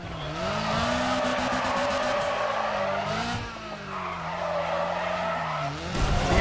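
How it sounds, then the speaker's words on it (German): Cars drift through a race in the video game Need for Speed ProStreet, tires skidding in long, continuous squeals over loud engine drone, the pitch wavering as they slide. "hier ist die Driftlinie und jetzt driften sie alle."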